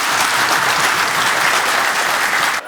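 Dense, steady applause from the Commercial Auto Sales audience welcoming a guest onto the stage at a live Tata Motors team session, filling the room evenly before cutting off abruptly near the end.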